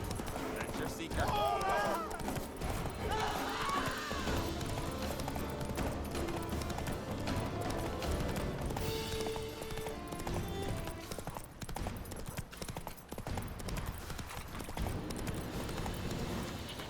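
Roach the horse galloping in The Witcher 3: Wild Hunt video game: steady, rapid hoofbeats run loud and close through the whole clip, layered with game music and ambience, with brief whinny-like cries near the start and voices talking over it.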